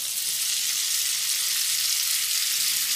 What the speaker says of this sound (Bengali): আদা, রসুন আর কাঁচা লঙ্কা কুচিকে হালকা লালচে করে ভেজে নিয়েছি। এরপর আমি দিয়ে দিচ্ছি পেঁয়াজ।